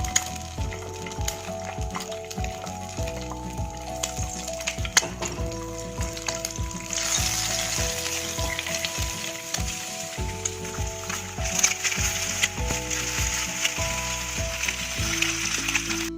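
An egg fries in a pan while tarka is being made, crackling and sizzling steadily and close up, with repeated rhythmic knocks of a utensil against the pan throughout.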